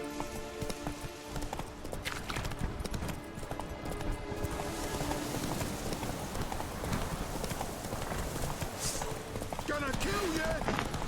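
A horse gallops in The Witcher 3, with steady rapid hoofbeats throughout that are mixed with game sounds and music, and a voice talks over them.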